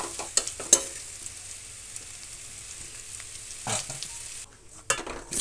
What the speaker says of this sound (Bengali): বন্ধুরা দেখুন আলুটা প্রায় ভাজা ভাজা হয়ে এসেছে। এবার আমি এইটা চামচে করে তুলে নেব।